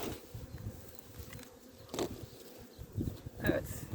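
Honeybees at an opened beehive during hive work, a low continuous buzz of many insects close by with brief louder passes of individual bees.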